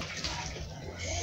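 Water poured over a dog during a bath on a hot day makes a continuous, soft splashing and gushing close by, lasting a little over a second.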